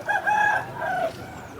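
A white-eyed, white-legged rooster at a rooster market in Vijayawada crows once, close and clear, its call rising and then trailing off over a low background hum.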